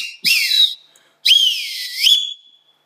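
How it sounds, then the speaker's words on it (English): Two shrill blasts from a 3D-printed whistle, the second longer with a wavering, warbling pitch, sounding close and loud with silence between them. "This whistle though, the version 29 whistle,"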